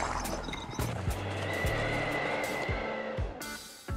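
A horse whinnies loudly with repeated clip-clop hoof steps around it, near and clear, with no talking.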